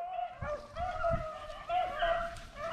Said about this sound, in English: Go put that dog up, Kristen.